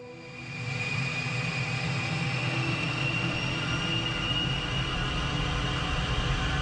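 The twin turbofan engines of an A-10C spool up toward full power, rising over the first second into a loud, sustained roaring drone with a steady high whine running on unbroken.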